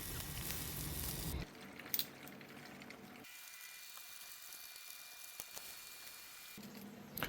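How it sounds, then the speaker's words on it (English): Alligator pieces bubble in a deep fryer with a soft, fizzing sizzle that cuts in and out in sections, quiet and close, with faint clicks and no voices. "here we have our last few pieces finishing up in our deep fryer"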